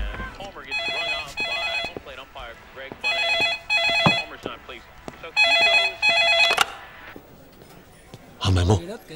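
A telephone rings in repeated electronic bursts while people talk loudly over and between the rings.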